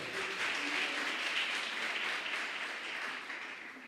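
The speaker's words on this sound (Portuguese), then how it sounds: "Você pode aplaudir o Senhor?" A church congregation applauds during a Portuguese-language sermon, a steady wash of many hands clapping at moderate distance, sustained evenly for several seconds before easing slightly at the end.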